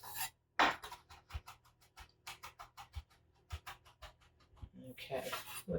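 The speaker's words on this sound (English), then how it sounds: "So get this nicely chopped." A knife chopping food on a cutting board in a kitchen, with a run of quick, crisp taps close by in an even rhythm and brief pauses between them.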